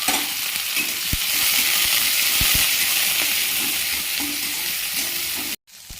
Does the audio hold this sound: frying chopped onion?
yes